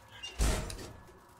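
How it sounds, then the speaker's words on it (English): An automatic sliding door in the Alien: Isolation video game closes with a brief, fairly loud mechanical whoosh and thud that fades over about a second, with no one talking. "Why can't I shut the damn door behind me? Because everything's automatic, son."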